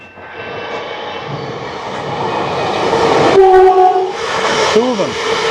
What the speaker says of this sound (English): and here comes the train.